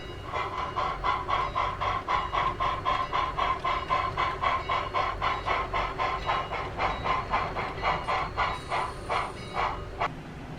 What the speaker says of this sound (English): this New Jersey Transit train from Philadelphia has to arrive at the terminal